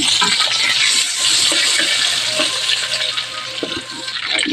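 Garlic hitting hot chicken oil for adobong kangkong, a loud, steady bright sizzle with crackling that holds throughout, close by and with no talking.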